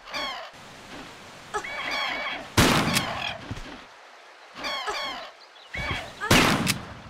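Sharp, sudden gunshots from the video game Tomb Raider 3, two loud blasts several seconds apart, set between stretches of a person talking.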